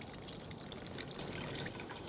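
Fish sauce pours from a bottle into a cooking pot, a faint, steady trickling splash lasting about two seconds with no talking.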